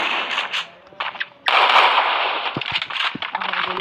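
Gunfire in the Free Fire video game comes as a rapid run of sharp, crackling shots. The shots start sparse, then turn into a dense, loud burst that keeps going to the end.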